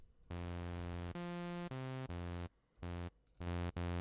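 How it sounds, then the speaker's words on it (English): A buzzy saw-wave synth from Serum, run through a flanger, plays a short sequence of sustained notes with a sweeping, hollow, comb-like whoosh; brief gaps separate the notes, no voices. "Play the Flanger, it sounds like this."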